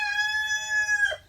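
Rooster crowing on a free-range chicken farm, one long, loud, close crow with a clear harmonic call that holds steady before breaking off at the end, with faint low farmyard rumble underneath.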